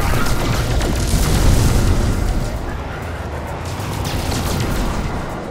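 Rockets firing and blasting in No Man's Sky on Xbox, a steady roar of booming explosions that stays loud and dense throughout with no pauses.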